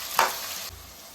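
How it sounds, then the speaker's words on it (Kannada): Onions frying in oil in a pan for garlic rice, a soft steady sizzle with a brief louder burst of stirring near the start, then fading to a quieter hiss. "ಈರುಳ್ಳಿದ ಹಸಿ ವಾಸನೆ ಎಲ್ಲ ಹೋಗಿ ನೀಟಾಗಿ ಚೆನ್ನಾಗಿ ಫ್ರೈ ಆಗಲಿ"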